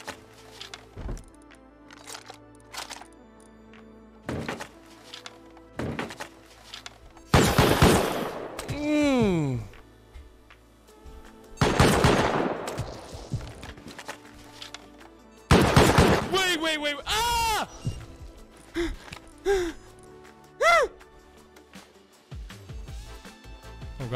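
Bursts of gunfire from a triple-shot burst weapon in the survival game Rust, loud, sharp volleys recurring across the clip with gaps between, some echoing shots and a few single cracks, no talking.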